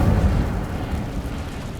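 Incendio fire spell cast in the video game Hogwarts Legacy: a deep, rumbling whoosh of flame that starts loud and fades slightly over under two seconds.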